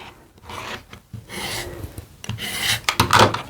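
A rotary cutter or blade trims a fabric hourglass quilt block along a ruler, giving soft rasping, rubbing strokes close by that grow louder toward the end.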